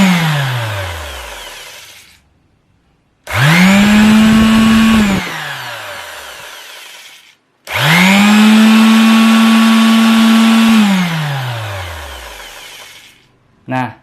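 An NRT 921 electric sander motor spins up, runs loudly and steadily, then winds down; this happens twice with a pause between, and a brief blip closes the clip.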